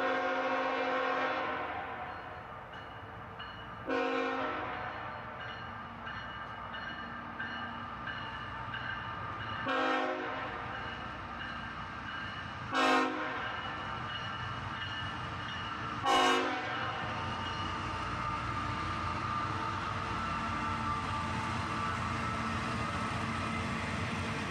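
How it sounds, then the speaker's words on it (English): A northbound intermodal freight train at dawn, led by a single ET44AH locomotive, rumbles steadily while its horn sounds several short blasts spaced a few seconds apart, loud and fairly close. "A northbound intermodal train right at dawn with a single ET44AH right on the head end."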